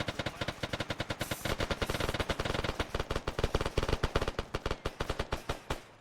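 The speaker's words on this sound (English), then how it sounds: "then a lot of gunshots" Sustained automatic gunfire in ARMA 3 military squad training, a rapid, loud stream of shots with steady rhythm that continues for the full stretch, dense and close with overlapping bursts.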